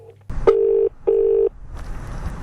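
Two evenly spaced ringback tones pulse on a recorded phone call, each about half a second long with a short gap, followed by faint line noise as the call connects.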